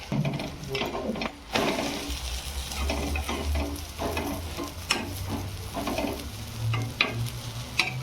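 An egg omelette sizzles in oil in a pan, with a constant crackling fry broken by scraping and stirring strokes of a utensil, close and fairly loud.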